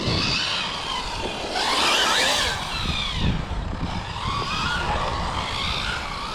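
Car tyres squeal loudly and steadily on a race track as a car corners hard, a continuous high screech over engine roar that swells and eases, with no talk.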